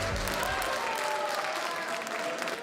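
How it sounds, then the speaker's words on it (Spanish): Applause fills the Chamber of Deputies during a legislative vote, a dense, steady patter of many hands from a large room, with some voices and murmurs running faintly underneath. "Aplausos que por tercera vez se repiten en la Cámara de Diputados."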